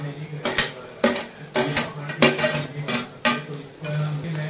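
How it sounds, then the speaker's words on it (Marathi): Chopped tomatoes cooking with eggs are stirred in a pan, a spoon striking and scraping the metal in about seven regular, close, clattering strokes, with no talk. "आता टोमॅटो हलवून घेऊ"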